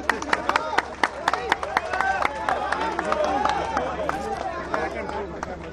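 Crowd clapping loudly at a political workers' convention, scattered sharp claps building into a mass of applause with voices and cheering mixed in.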